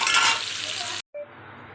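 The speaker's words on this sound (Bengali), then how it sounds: "ছোলো ছোলো জাল দিয়ে আমি ভেজে নেব।" Paneer fries in oil on a low flame, giving a dense, close sizzle that suddenly cuts out for a moment and then returns more softly, with no talking.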